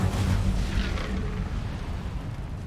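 Incendio fire spell cast in Hogwarts Legacy, a loud whooshing fiery burst that rumbles and fades over a couple of seconds, with no voices.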